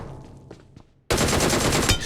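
Automatic gunfire from a shooter in the mobile battle royale game BGMI erupts after about a second of near-quiet ambience, then hammers on loud and dense, a rapid unbroken burst filling the rest of the moment.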